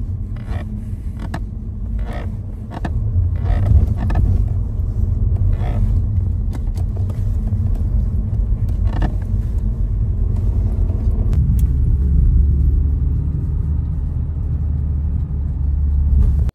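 A car with a leaking clutch master cylinder rumbles steadily on a road test with low road noise, with some scattered clicks and knocks over the engine drone, the pitch shifting slightly partway through.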